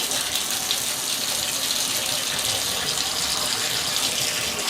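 Tap water running hard into a sink during a drain-cleaner setup test, a steady, loud, unbroken rush and splash that holds evenly throughout with no pauses.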